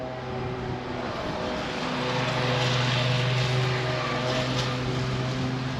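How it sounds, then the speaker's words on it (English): A steady droning motor hums continuously nearby, like a lawn mower running, with a constant engine tone and broad whooshing noise. "someone's cutting grass behind me here."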